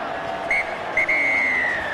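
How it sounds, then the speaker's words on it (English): A referee blows the final whistle at a 2003 Rugby World Cup match between France and the USA in Wollongong: one short blast, then a long sustained tone over low stadium crowd noise. "And there goes the final whistle here at Wollongong."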